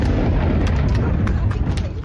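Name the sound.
explosions during US and Israeli strikes on Iran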